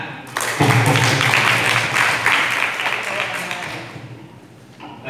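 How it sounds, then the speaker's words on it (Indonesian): Applause from a class of students during a teacher's active-learning statue-theatre brainstorming session, a broad dense wash of clapping that swells quickly, holds steady, then thins out toward the end. "Ya sudah, tepuk tangan"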